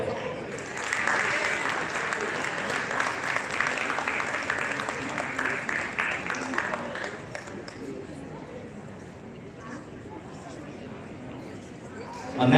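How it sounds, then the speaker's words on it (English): Audience applause at a Philippine National Day ball, a dense, steady wash of clapping from a large crowd that holds for several seconds and then thins and tapers toward the end. "Ladies and gentlemen, a round of applause."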